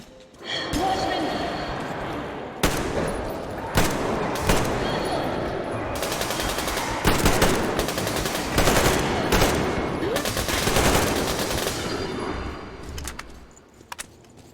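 Rapid bursts of gunfire from the first-person shooter Metro Exodus crackle steadily through most of the stretch, loud and close, with sharp single shots standing out among dense automatic fire and speech faintly underneath.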